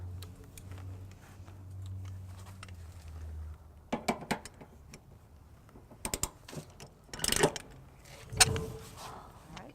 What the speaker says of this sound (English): we're going to go ahead and torque our 2 most forward bolts